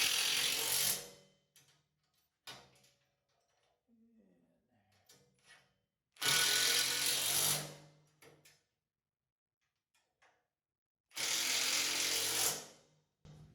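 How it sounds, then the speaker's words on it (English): A 3/8 impact driver tightens nuts on an overhead drilling-aid mount in three loud, close bursts of hammering whir, with quieter handling clatter in between. "We're going to use a little impact driver, 3/8 impact driver"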